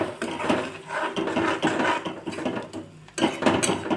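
Cashew curry gravy being stirred in a pan after about a cup of water is added, with a restaurant-style recipe; a spoon scrapes and clinks steadily against the pan in close, continuous clatter, with no talking.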